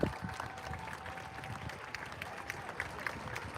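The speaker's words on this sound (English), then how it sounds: "They're all clapping for a tyrant." A crowd claps steadily at an outdoor public gathering of senators, congress members, a governor and police, faint and distant, with scattered voices mixed in.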